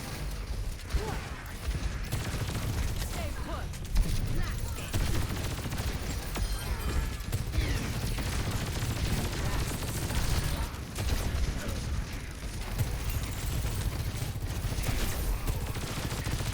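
Railgun fire from Sojourn in the video game Overwatch 2, mixed into dense, steady match noise with repeated sharp shots and mechanical clatter throughout, fairly loud and continuous.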